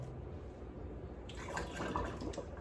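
Half a cup of witch hazel is poured into a mix for homemade natural bug repellent, making a faint, brief liquid trickle with no voices.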